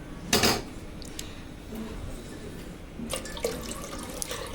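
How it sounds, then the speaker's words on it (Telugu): Water poured into a pot on the stove for cooking pappula kudumulu, a brief splashing gush followed by quieter trickling and light kitchen clatter, close and fairly faint. "3 కప్స్ పిండికి 6 కప్స్ వాటర్ వేసుకోవాలి."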